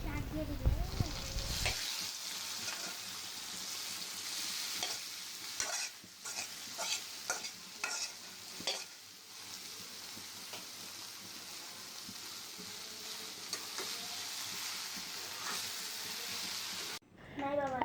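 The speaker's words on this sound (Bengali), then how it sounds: "এখন ভেজে একটু ভাজা ভাজা হয়ে গেলে শাকগুলো দিয়ে দিব" Oil sizzles and food is stirred in a pan before greens go in, a faint, steady frying hiss broken by repeated scraping stirs, with a louder burst at the start and a brief drop near the end.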